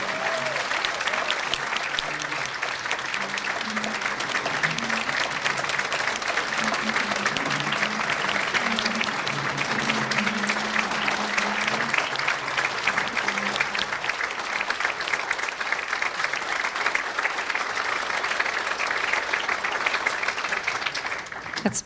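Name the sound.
round of applause from audience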